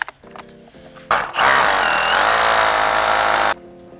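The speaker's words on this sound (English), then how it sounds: "We're gonna use a hammer drill or a masonry or a rotary drill." A hammer drill with a quarter-inch bit bores into masonry for anchor mollies, a loud grinding burst of about two seconds after a brief start, with quieter handling noise before and after.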